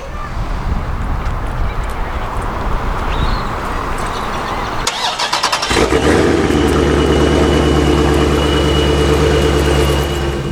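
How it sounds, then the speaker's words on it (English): A remote-started car engine, a Hemi, cranks and catches, then settles into a steady idle hum after several seconds of outdoor background noise. No talking. "I remote start my car like almost all the time just so I can hear it start up"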